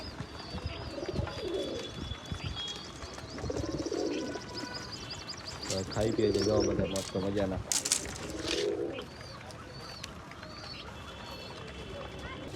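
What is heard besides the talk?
pigeons cooing while feeding chicks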